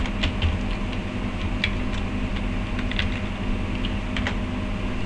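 Someone types a search word on a computer keyboard: a quick, uneven burst of close, crisp key clicks over a steady background hum.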